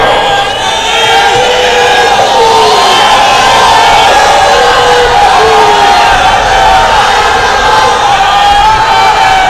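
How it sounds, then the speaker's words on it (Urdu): A large crowd at a protest rally in Hyderabad roars together in a loud, sustained chant of a slogan, voices massed and continuous throughout. "زوردار نعرے سے اس بات کی تائید کرو"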